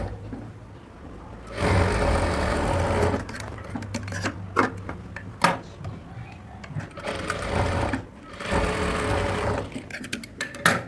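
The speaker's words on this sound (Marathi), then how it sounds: "तर हे दोन फॅब्रिक मी सरळ सरळ ठेवणार आणि अशी शिलाई देणार" A sewing machine stitching two pieces of blouse fabric together, running in loud steady bursts of rapid needle chatter broken by short pauses and clicks, with someone speaking between runs.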